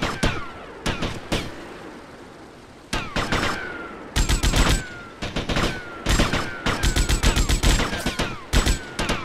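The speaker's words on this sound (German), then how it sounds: "Von wo schießen die denn auf mich?" In GTA Vice City, close, loud gunfire comes in sharp single shots and rapid bursts, with short pauses between volleys and a dense stretch of repeated fire toward the end.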